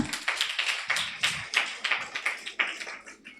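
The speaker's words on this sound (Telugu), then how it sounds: "అందరూ ఒక్కసారి క్లాప్స్ కొడతామా గట్టిగా" A congregation at a Telugu church sermon claps loudly together, a dense run of sharp hand claps roughly every few tenths of a second, close and full, with no voices over it.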